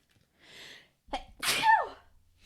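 A single human sneeze, a short breathy intake followed by a sharp, loud burst and trailing exhale, close to the microphone in a quiet room.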